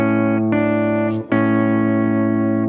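Guitar plays a simplified version of an intro: sustained, ringing notes with a brief break midway before the chord rings on, played alone with no talking.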